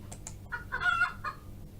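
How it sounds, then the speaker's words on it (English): A game chicken in Smile Game Builder gives a short run of sharp clucks and squawks, close and clear, over a quiet background. "For a bit of flourish, the chicken jumps with a sound."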